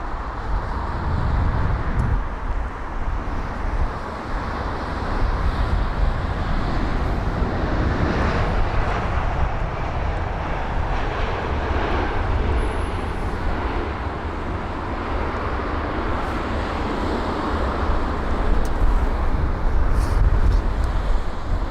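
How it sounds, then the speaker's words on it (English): A British Airways Airbus A321neo at London Heathrow on a windy day, a steady broad engine roar that holds at a fairly even loudness throughout, with no voices. "A321neo with the Reg Golf Tango November Echo Charlie is flight number BA 565."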